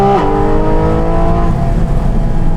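A 2023 Porsche 718 Cayman GT4 RS sports car on a smooth road, its engine loud and close with a sustained high-revving tone that shifts pitch early on and then holds steady under acceleration.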